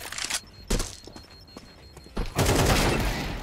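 Gunfire from the video game Counter-Strike 2, several sharp separate shots in quick bursts, then a longer, denser rattle of rapid fire that carries on to the end, close and loud with no talking over it.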